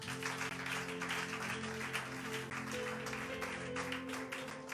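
A church congregation at a French-language prayer service claps together, a steady faint patter of many hands sustained throughout over a low droning hum.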